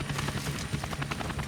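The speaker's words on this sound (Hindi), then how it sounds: "जैसे ही बचाव हेलीकॉप्टर उसकी आंखों के आगे उतरता है" A rescue helicopter lands, its rotor throbbing steadily with a dense, rhythmic chop and loud engine roar, close and continuous with no voices.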